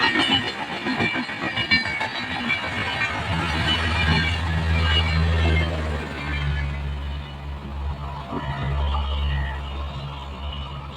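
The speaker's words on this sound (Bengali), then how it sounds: "এখন চার নম্বর লাইন দিয়ে বেরিয়ে যাচ্ছে একটি এক্সপ্রেস ট্রেন" An express train runs past on the fourth line of a busy station, heading toward Sealdah, with a loud continuous rumble and rattling wheels that stay close and steady throughout.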